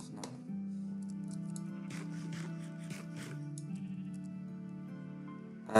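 Sheep bleat repeatedly on a sheep farm in Minecraft, a steady droning bleat sitting under soft background game sounds, with a louder burst right at the end.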